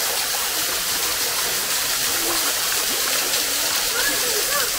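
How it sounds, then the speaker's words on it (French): Water steadily running through a small diversion pipe into pools fed by volcanic sulphur springs at the Soufrière volcano in St Lucia; a continuous, fairly close rush and gurgle that holds even throughout, with no talking. "avec un petit tuyau qui dévie l'eau."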